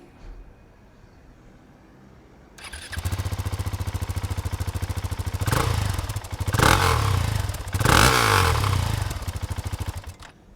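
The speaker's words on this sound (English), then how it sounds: "Welcome to the sound check of the 2019 KTM 690 Supermoto SMC R." A 2019 KTM 690 SMC R supermoto single fires up after a quiet moment. It settles into a loud, close, lumpy idle, then gets three sharp revs and drops back to idle, with no talk.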